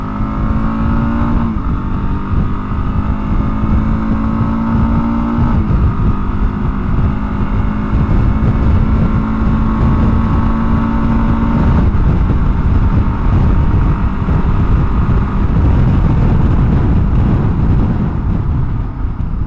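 A Kawasaki KLR650S motorcycle engine revs hard at full throttle and climbs in pitch, with steady wind buffeting the microphone throughout.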